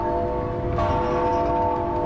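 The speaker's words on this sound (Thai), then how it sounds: "เป็นระฆังดัง ก้องแกงก้องแกง" A ringing bell in the puzzle game The Room Three sustains a steady metallic tone with layered overtones, a fresh strike renewing the ringing partway through.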